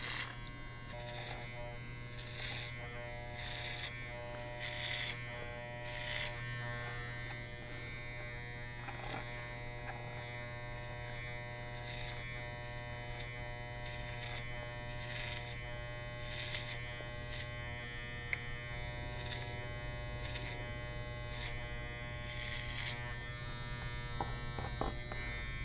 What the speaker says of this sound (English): So this is the clipper over comb